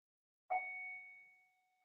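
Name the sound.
school bell ringing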